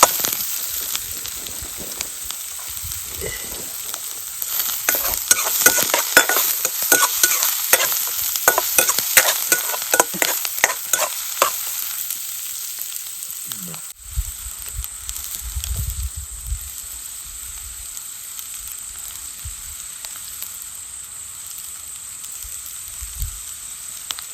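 Food roasting in a pan over a campfire on a winter night camp, with a loud continuous sizzle and crackle and stirring scrapes early on, settling into a quieter hiss with low rumbles later.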